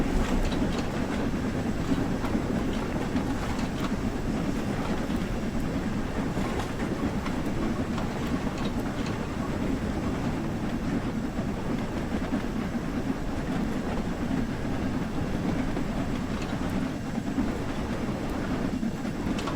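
A steam train rumbles steadily for the whole stretch, with a continuous low chugging roar and faint rhythmic clatter over the rails.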